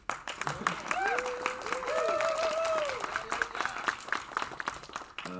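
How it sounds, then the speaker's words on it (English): A round of applause at a game jam presentation at a science center, with scattered clapping mixed with cheering and whooping voices from a crowd. "A round of applause for them, please."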